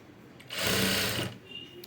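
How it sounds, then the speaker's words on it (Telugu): A sewing machine runs in a single short, loud burst of about three-quarters of a second, whirring as it stitches self piping onto a blouse, then stops. "నీట్గా స్టిచ్ చేసుకుంటూ వెళ్ళిపోవాలి"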